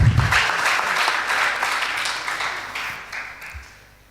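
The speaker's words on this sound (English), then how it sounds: "Please give them a round of applause" An audience at a school competition between Kenya High School and Moi Forces Academy gives a round of applause, steady dense clapping that gradually fades out over several seconds.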